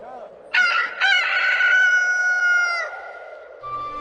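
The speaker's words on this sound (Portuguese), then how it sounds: "o galo cantou pela segunda vez" A rooster crows in one loud, near cock-a-doodle-doo, starting with two short rising notes and then a long held call that fades at the end, alone with a little faint background sound.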